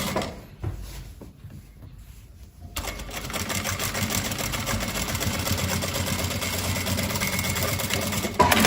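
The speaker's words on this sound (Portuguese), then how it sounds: "Agora, nós vamos fazer o pesponto do bolso aqui na reta." A sewing machine topstitches a sweatpants pocket: a brief quiet handling pause, then the motor kicks in with a fast, steady mechanical whirring and needle chatter running continuously, close and fairly loud.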